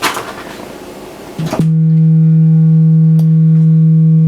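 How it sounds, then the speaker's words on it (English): A buzzy, harsh synth tone cuts off abruptly, replaced by a loud, steady sustained tone with a strong low fundamental and stacked overtones, foldback distortion from a Mungo Enterprises w0 waveshaper module. "foldback distortion there"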